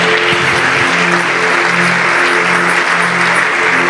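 A church congregation applauding and cheering in praise of the Lord at the close of a sermon, dense continuous clapping with a sustained tonal hum underneath, loud and unbroken from start to finish.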